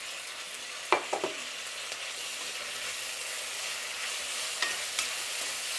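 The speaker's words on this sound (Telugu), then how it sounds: "అలాగే అల్లం వెల్లుల్లి పేస్ట్ కూడా వేసేస్తున్నానండి." Ginger garlic paste and tomato fry in a pan, a broad, steady hiss of sizzling oil with a few sharp clacks of a spoon near the start and again later, close and without talk.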